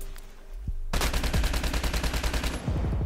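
Rapid automatic gunfire from an HBR rifle in the video game COD Mobile, a dense, loud, steady burst of shots starting after a brief quiet lead-in and running to the end.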